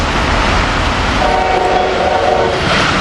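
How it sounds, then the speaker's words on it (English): A northbound Amtrak passenger train rumbles loudly past at close range at Cornwells Heights, with a steady roar of wheels on rails and a faint sustained tone partway through. "Here we got an Amtrak train headed north."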